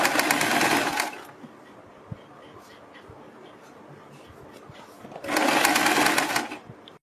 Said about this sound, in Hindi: इसी तरह से इसमें यहाँ से यहाँ तक एक सिलाई लगा देंगे